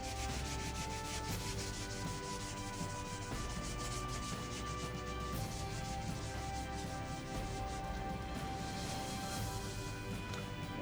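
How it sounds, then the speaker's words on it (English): Wet sanding of primer on the fuselage of a Top Flite P-40E Warhawk model airplane, a steady continuous rubbing and scraping that runs close and fairly even throughout, with no talking. "So the main thing is getting this thing all wet sanded."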